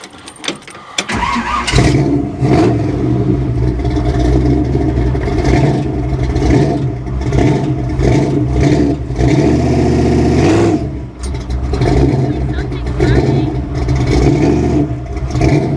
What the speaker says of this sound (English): Sounds like the drive shaft was making noise or something